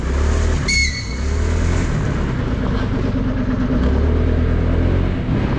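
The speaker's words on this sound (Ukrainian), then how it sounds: "зараз дам газу на отакій е, дорозі" Honda PCX160 scooter, a 2022 model, accelerating up a steep road ramp, its engine droning steadily and close with a brief high whine partway through, some rumble and wind noise throughout.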